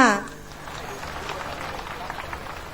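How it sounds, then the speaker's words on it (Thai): At a Thai gathering supporting flood relief, an audience claps in a broad, even patter that continues for a few seconds after a brief musical sting at the start. "ขอเสียงปรบมือด้วยค่ะ"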